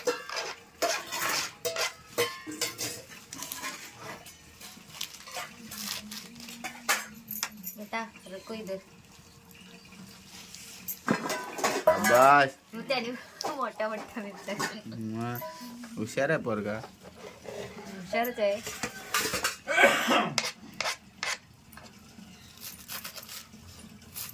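Radish greens being chopped on a board for a vegetable dish, with irregular knife taps and clinks of utensils close by, mixed with intermittent talk.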